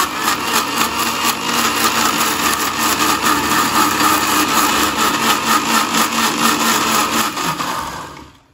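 A kitchen mixer grinder whirs steadily while making juice, a loud, close, continuous motor drone with rattling pulses that runs for about eight seconds before spinning down at the end.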